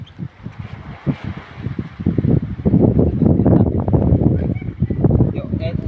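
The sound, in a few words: wind blowing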